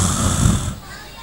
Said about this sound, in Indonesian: Ada yang ngorok tuh bunyinya mantap-mantap